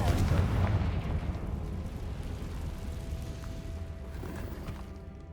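Confringo fire spell explosion in Hogwarts Legacy, a deep booming blast at the start rolling into a long fading rumble, with faint game ambience trailing behind.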